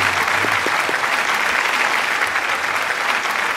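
Steady, dense audience applause follows a duet poetry performance on a Nepali talent show, filling the hall continuously at a close, even level.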